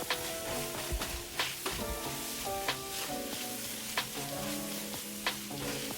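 Vegetables sizzling steadily in a hot pan, a constant close frying hiss with scattered scrapes and clicks from stirring.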